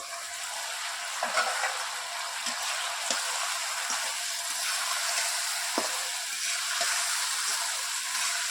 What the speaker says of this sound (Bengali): এখন ঢাকনাটা উঠিয়ে আবার নাড়াচাড়া করে দেব